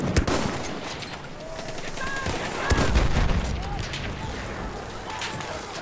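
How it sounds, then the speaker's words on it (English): Enemy machine gun fire in a combat video game, with bursts of gunshots and booming impacts amid a busy battle soundscape, mixed with shouting voices and radio-like chatter throughout. "Enemy machine gun!"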